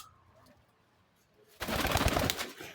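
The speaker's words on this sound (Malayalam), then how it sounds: "ഇപ്പൊ നമ്മളടുത്ത് ആകെ 2 ജോഡി പ്രാവ് ഉണ്ട്" Domestic pigeons kept as a couple of pairs: soft, faint cooing at first, then a sudden loud, close burst of fluttering and rustling that lasts to the end.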